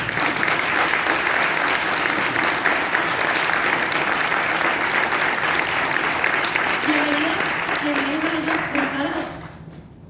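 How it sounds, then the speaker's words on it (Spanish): An audience applauds the author and editor on stage at the Anaya award presentation, a loud, dense, continuous wash of clapping that holds steady before fading out near the end, with a voice briefly emerging beneath it. "Os pido por favor un aplauso para ellos."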